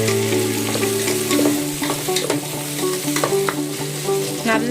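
Sliced onions fry in oil for vegetable biryani, a constant close sizzle with a run of scraping stirs and clinks of the spoon against the pan.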